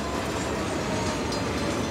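A train rolls steadily along the rails as a continuous, fairly loud rumble with faint clickety-clack, heard alone with no talking throughout.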